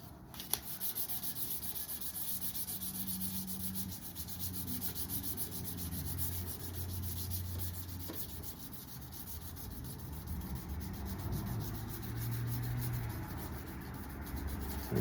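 Steady hand sanding with 800 grit sandpaper, a continuous close rubbing scrape that runs without pause, with no one speaking.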